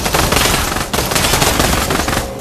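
Sustained automatic gunfire from a gun in the virtual reality shooter Pavlov, loud and dense throughout with rapid continuous shots and a brief gap near the start, no talking.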